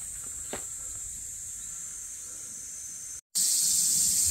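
A cicada near a hillside pilgrim shelter in Shikoku gives a steady, thin high buzz that struggles to start. After a brief break it returns louder and fuller, with no talking.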